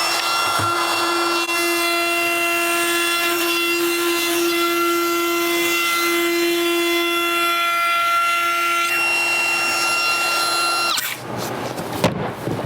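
A router fitted with a 1/4 inch round-over bit shapes the bottom edge of a cabinet shelf, a loud, steady high-pitched motor whine with strong tonal harmonics that runs for about eleven seconds before cutting off into brief clattering.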